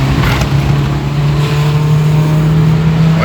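A 1980 Ford Fiesta Mk1 with a Kent engine pulls under load as the engine drones steadily and climbs slightly in pitch, heard loud from inside the car with road noise and no talking.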